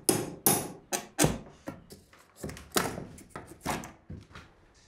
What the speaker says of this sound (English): a handy little tool is one of these lovely little pry bars. You want to just whack it